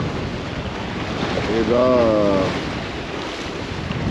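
Wind blows steadily across an open sea dike during a surfcasting outing, a broad rushing noise with a voice speaking briefly over it near the middle.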